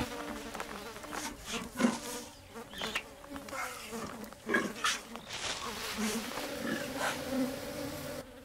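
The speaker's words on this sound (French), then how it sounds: "elles attirent aussi les abeilles." Bees hover around nectar-rich flowers in the wild, their steady buzzing drone rising and falling as insects pass close to the microphone, with several overlapping wingbeats and no speech.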